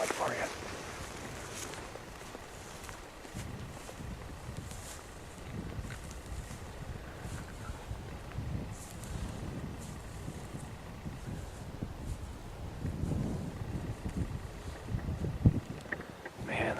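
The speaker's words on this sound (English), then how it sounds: "the wind is blowing right at him" Wind blowing outdoors, steady gusty rush and microphone buffeting throughout, moderately loud, with people talking intermittently over it.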